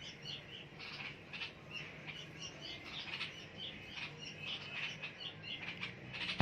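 Garden birds chirp and squawk around a nest, with a steady stream of bright, busy calls repeating throughout at moderate distance over faint background hiss.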